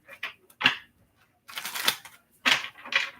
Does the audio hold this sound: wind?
no